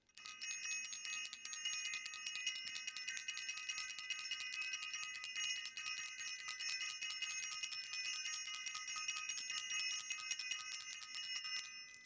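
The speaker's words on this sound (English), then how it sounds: "I want to ring the bell." A bell rung rapidly and continuously for about twelve seconds, a bright shimmering ring with steady fast strikes, close and even, with no speech over it.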